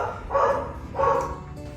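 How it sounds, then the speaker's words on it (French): A pet dog named Cato barks at trucks at a roadwork site across the street, two bursts of close, fairly loud barking about half a second apart over steady background noise. "le chien jappe parce qu'en face, ils font des travaux"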